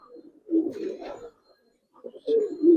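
A Giribaz pigeon gives two low, throaty cooing bursts separated by a short pause, heard up close with no talking.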